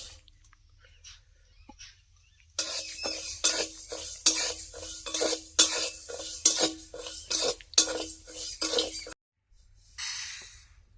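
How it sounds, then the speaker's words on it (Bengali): Moong dal is dry-roasted in a pan, a spatula scraping and stirring in rapid rhythmic strokes, about a dozen close, crisp scrapes, then a brief silence and one last burst of stirring. "প্রথমেই আমরা ডালটা ভেজে নেব"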